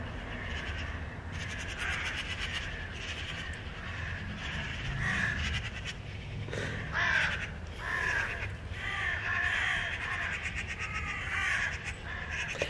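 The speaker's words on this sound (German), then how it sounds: "ich weiß nicht, ob ihr das hört, aber die Krähen haben gerade" Crows caw loudly and repeatedly outside, harsh calls overlapping in bursts throughout with a steady outdoor background, no talking.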